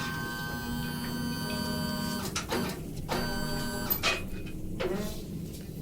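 Air suspension on a 1968 Chevrolet Impala lowering the car. A steady electric compressor or valve hum is broken by several short bursts of air release, close and fairly loud, with no talk.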